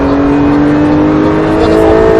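A Porsche 911 Carrera S accelerating hard on the Nogaro circuit, its engine a loud, continuous rising drone heard from inside the car, with a voice talking underneath.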